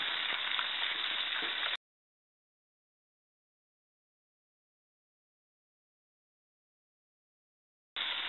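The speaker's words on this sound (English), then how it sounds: "after just a few seconds, the pork is already starting to brown and cook" Pork stir-fries in a hot pan for a Chinese stir-fry with beancurd and mushrooms. A short, bright sizzle sounds at the start, cuts to a long stretch of silence, then the sizzle briefly returns at the very end.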